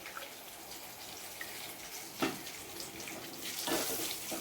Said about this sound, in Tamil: இப்போ நம்ம 2 கப்பு தண்ணி ஊற்றிக்கணும்